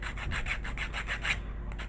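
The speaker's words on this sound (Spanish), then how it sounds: "La lijamos para quitar los rebordes." A nail file sanding the edges off a small craft piece, heard as close, rhythmic rasping strokes, about eight quick back-and-forth rubs that trail off near the end.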